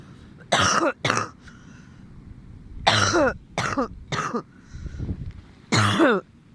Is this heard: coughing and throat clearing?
yes